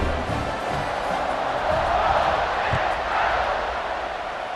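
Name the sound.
stadium crowd in a college football video game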